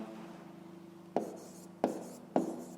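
Handwriting on paper for a school maths exercise, a soft scratchy pen stroke under a low steady hum, then three sharp taps or strokes at even intervals.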